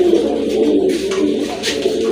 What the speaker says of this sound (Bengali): আরেক জোড়া রাজগোল্লা কবুতর এখানে দেখতে পাচ্ছেন